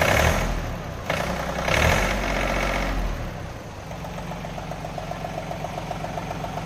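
A John Deere 3036EN tractor with a 35 HP three-cylinder engine runs steadily near the microphone, with a rough, knocking idle that settles into an even, pulsing rhythm partway through.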